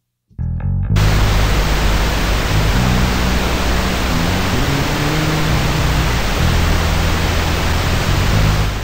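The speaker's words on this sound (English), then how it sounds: "Let's listen to the pink noise one more time with just this loop going." Steady broadband pink noise test signal runs loud and continuous after a brief quiet start, with a repeating music loop audible underneath it.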